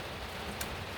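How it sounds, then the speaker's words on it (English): Heavy rain pours down outside a van under conversion, a dense, even hiss of drops with one brief sharper patter. "it's raining heavily, as you can hear"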